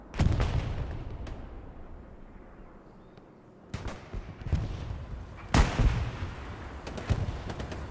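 Anti-tank cannon and tank guns fire in a video game, with several sharp, loud blasts spaced irregularly over a rumbling, low battle background.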